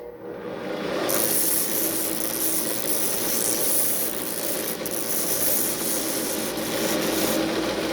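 During a Rickenbacker guitar repair, the ends of cut pieces are rounded with a file, making a steady, close, scratchy rasping that runs throughout.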